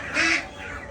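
A native desi duck at a Sunday market gives a single short, nasal quack, close and moderately loud.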